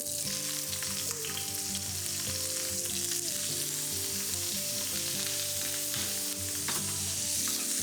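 Peeled prawns with tails removed hit a hot pan and sizzle loudly and continuously, a dense crackling fry holding steady with faint stirring underneath and musical notes running below.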